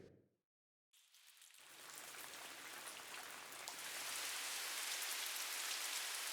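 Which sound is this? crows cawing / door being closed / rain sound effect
rain sound effect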